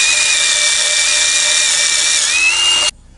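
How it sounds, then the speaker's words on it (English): A wire wheel on a power tool scrubs weld beads off a steel bracket, giving a loud, steady high-pitched whir that holds for about three seconds before cutting off abruptly. "I use a wire wheel to kind of clean up the weld beads"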